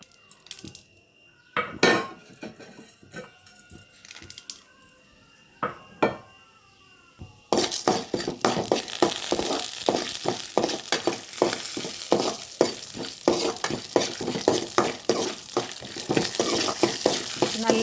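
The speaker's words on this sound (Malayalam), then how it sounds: "എടുത്തു വെച്ച ഈ പൊട്ടുകടലയും ഉഴുന്നും ഇതിലിട്ടിട്ട് ഒന്ന് വറുത്തെടുക്കുക" Roasted gram and urad dal roasting in ghee and oil in a pan: a few sparse utensil clinks at first, then a loud, continuous crackling sizzle with repeated scraping and stirring strokes.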